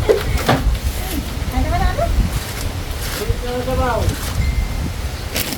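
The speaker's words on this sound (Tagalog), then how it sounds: "Ito hangin." Wind blows steadily against the microphone with rustling, while people talk intermittently over it.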